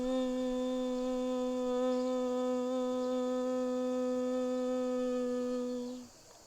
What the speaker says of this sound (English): we're going to practice something called a humming breath